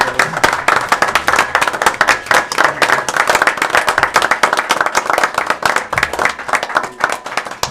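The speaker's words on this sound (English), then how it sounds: "I think Lewis deserves a round of applause." People at a city council meeting break into applause, a close, dry burst of many hands clapping in a quick uneven patter that holds steady throughout in a modest room.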